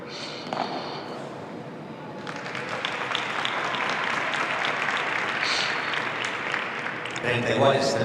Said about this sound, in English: You can hear the crowd there cheering on this wild card pair.